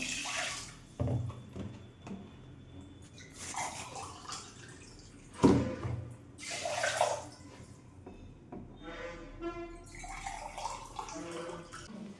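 Four glasses of water poured onto two glasses of rice in a cooking vessel, heard as quiet splashing and trickling in short separate bursts, close by, with small drips between pours.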